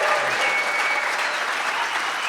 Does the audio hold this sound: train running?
no